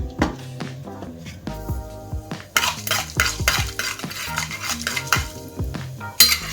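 Mustard seeds drop into hot oil in a pan while cooking fenugreek greens, giving sharp crackling pops and sizzles mixed with clinks of a metal spoon against the pan, fairly close and lively throughout.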